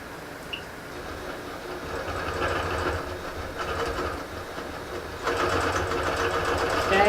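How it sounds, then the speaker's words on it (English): A longarm quilting machine stitches a quilt held on a frame. It makes a fast, steady mechanical chatter at moderate distance that grows louder and busier partway through. "cut so I can get the machine out of my way"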